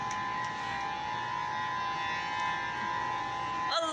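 A civil defense siren sounds during a scheduled test in Honolulu, Oahu, a sustained steady wailing tone heard from a distance over faint outdoor background.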